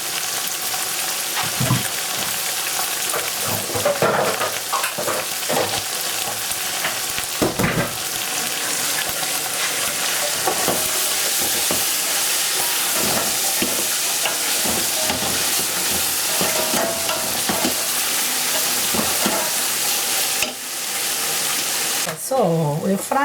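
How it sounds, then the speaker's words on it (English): Onion and meat gravy mixture frying in a pan, a steady broadband sizzle with stirring clatter throughout, close and fairly loud, with a brief dip near the end; people talk faintly in the background. "So we're frying out this mixture."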